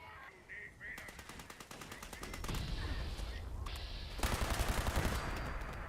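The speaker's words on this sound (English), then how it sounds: "Shooting the robots." Rapid automatic gunfire from a Fallout 76 player shooting robots rattles in quick bursts of repeated shots, growing louder toward the end over steady game background noise.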